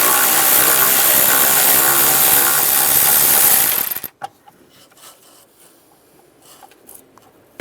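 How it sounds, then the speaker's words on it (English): Ratchet with a 10mm socket loosening a battery bolt and nut on a 2007-2013 Chevrolet Silverado, heard as a loud continuous rough whirring for about four seconds, then a sudden stop with a few faint clicks and handling noises. "Using the 10mm socket, there's a bolt here and then a nut over here."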